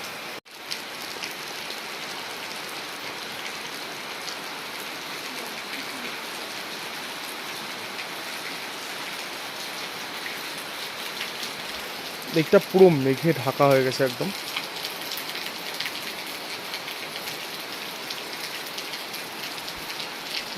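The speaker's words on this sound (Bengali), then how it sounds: "ঘুম থেকে উঠে দেখি প্রচণ্ড পরিমাণে বৃষ্টি হচ্ছে আর পুরো মেঘ" Heavy rain falls steadily in hilly Kalimpong outside a homestay, a dense, even hiss of drops on surfaces lasting throughout, with a person briefly talking partway through.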